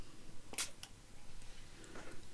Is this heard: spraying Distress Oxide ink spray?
yes